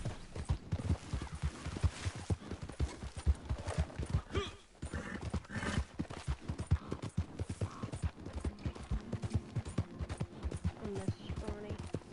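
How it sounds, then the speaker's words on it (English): Horse hooves clip-clopping in the video game Red Dead Redemption 2, a quick, busy patter of hoofbeats close by that carries on for several seconds beneath talking and a brief pause in the middle. "I like this horse."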